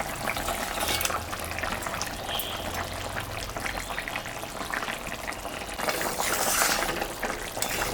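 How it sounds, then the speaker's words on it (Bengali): Fish curry broth with ash gourd bubbles at a steady boil in the pot, a close, even frying-like hiss and bubbling with a faint low hum beneath and a slight swell near the end. "ঝোলটা ফুটে গেছে।"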